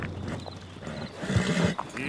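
A horse whinnies in the video game Red Dead Redemption 2, short breathy neighs and snorts mixed with hoof movement and game noise, close and moderately loud.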